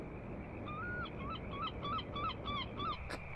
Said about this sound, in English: Casual seagull in the background there.